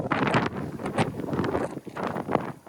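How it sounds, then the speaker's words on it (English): Wind gusting across an exposed hilltop fort high above Vladivostok in Russia's far east, a broad, rough rush that swells and dips in uneven waves, close and steady throughout with no voices. "with a lot of wind behind me as well."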